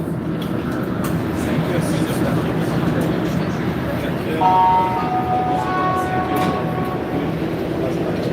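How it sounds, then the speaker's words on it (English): Montreal metro train motors run loudly inside a moving car, a constant rumbling roar with a whining motor tone that rises midway. "I'm not going to talk much in the metro because of the motors are loud."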